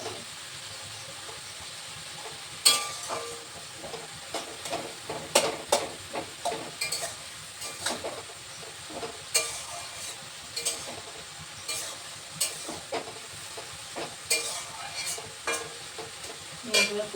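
Pointed gourd fries in a pan, a quiet steady sizzle broken by repeated scraping stir strokes at an uneven rhythm, close and fairly soft.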